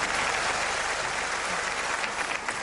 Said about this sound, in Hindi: कॉमोडोर इम्तियाज भट्टी हमारे साथ मौजूद थे, आपकी भरपूर तालियों में इनको रुखसत करना चाहेंगे।